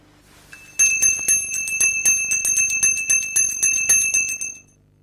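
A small bell cast from lead and rubber, chilled in liquid nitrogen, rings out in a rapid series of about a dozen bright, clear metallic strikes that end abruptly after four seconds.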